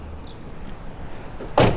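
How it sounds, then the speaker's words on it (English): The assisted multi-function tailgate on a 2021 RAM 1500 Limited Night Edition EcoDiesel with a spray-in bedliner drops open. A quiet stretch ends in a single loud, close clunk. "It does drop down like a normal tailgate, and it is assisted."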